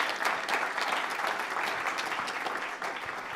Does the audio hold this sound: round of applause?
yes